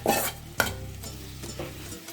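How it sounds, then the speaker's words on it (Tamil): Ivy gourd pieces drop into a hot pan with two sharp scraping bursts followed by a low, steady sizzle, close and alone without any voices. "இப்போது நம்ம மிக்ஸ் பண்ணி வச்சுருக்கிற இந்த கோவக்காவை இதெல்லாம் போடுவோம்"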